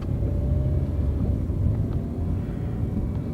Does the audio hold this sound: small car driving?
yes